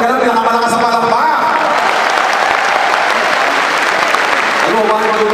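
An audience applauding loudly at a success-story talk, with dense continuous clapping at full volume and a voice talking over it at the start and the end.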